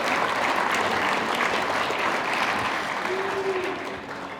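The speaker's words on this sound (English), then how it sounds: "Round of applause for all of our vote getters, and of course, Angelica herself, who won the medal" Applause from an awards presentation crowd for football league vote getters and a medal winner, a full, steady wash of clapping that fades slightly toward the end.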